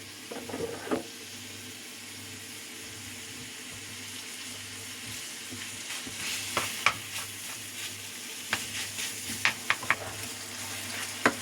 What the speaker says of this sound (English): While we're waiting for that beef to fry up